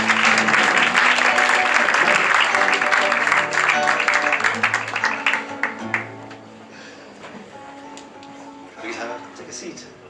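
Warm applause from a theatre audience at a mentalist's stage show, thick clapping for several seconds that thins and fades out, with a voice speaking under and after it.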